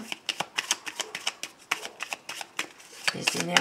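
Petit Lenormand fortune-telling cards shuffled by hand in quick, crisp riffling bursts, about a dozen sharp flutters close to the mic in an uneven rhythm.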